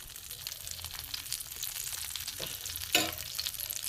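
Vegetable mughlai paratha frying slowly in a little oil, giving a steady close sizzle with a brief louder crackle near the end.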